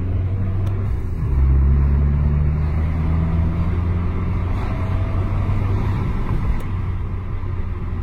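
Fiat car with an automatic gearbox, sport mode off, driven in town: a steady, close engine drone with a clear shift in pitch early on as the gearbox changes gear, then a continued even hum.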